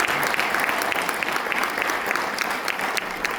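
A crowd applauds during a Martin Luther King Jr. tribute in Manchester Township, New Jersey, with sustained, even clapping from many hands filling the room at steady volume throughout.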